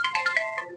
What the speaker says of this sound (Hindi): तो फोन को साइलेंट कीजिए आप एक बार।